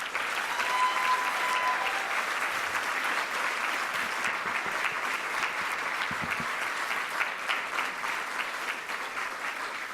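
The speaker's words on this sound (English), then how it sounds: "So if you can please give a big round of applause to them." Audience applause fills a graduation ceremony hall, steady and sustained clapping from a large crowd throughout, dense and continuous without pause.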